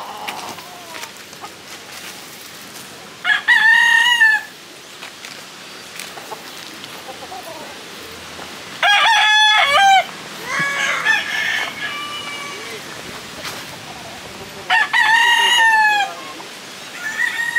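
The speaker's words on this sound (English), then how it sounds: "Just a bunch of roosters." Several roosters crow in turn around a neighborhood in Cebu, Philippines, each call loud and close with a rising-falling shape, spaced a few seconds apart over a steady bed of outdoor background noise.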